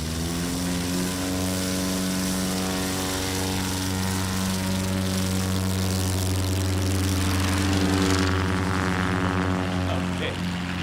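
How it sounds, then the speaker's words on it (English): A large STOL propeller airplane flies at the Music City STOL 2025 event in Gallatin, Tennessee, its loud, steady droning engine and prop tone holding for about eleven seconds and swelling slightly near the end. "It's a big airplane."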